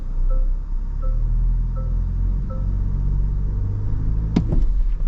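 Toyota Land Cruiser engine climbing off-road over rocks, a low steady rumble with deep drone and wind buffeting the microphone, plus a brief clunk near the end.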